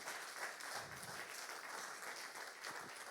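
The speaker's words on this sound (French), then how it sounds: "Je pense qu'on peut encore une fois applaudir Franck pour cette belle présentation." Audience applause at the close of a conference session on agile frameworks: dense, steady clapping from a crowd, loud and sustained for the whole stretch with no voices over it.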